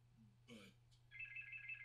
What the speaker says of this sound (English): Oh! Phone. The phone is working!